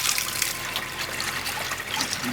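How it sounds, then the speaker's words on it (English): Soap tree leaves soaked in water, with a steady close trickling and splashing that runs without pause and has no voices over it. "Taking the leaves off the soap tree, soaking the leaves in the water."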